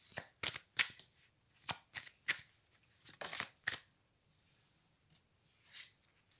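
Tarot cards being shuffled by hand, a quick run of close, sharp riffles and slaps followed by softer sliding and a final flutter, with no talking.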